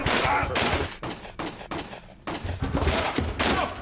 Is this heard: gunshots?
yes